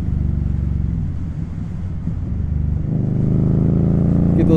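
Motorcycle exhaust note while riding along curving roads, a steady low throbbing engine drone that swells slightly as the bike accelerates, continuous and close with wind rush.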